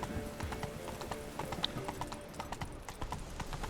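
Roach, Geralt's horse in The Witcher 3 video game, trots with steady, close clip-clop hoofbeats and a brief whinny, with game ambience underneath.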